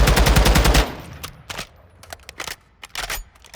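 A TAC 56 assault rifle in Call of Duty: Modern Warfare II fires a loud, rapid automatic burst at close range, followed by scattered sharp clicks and single cracks as the firing stops.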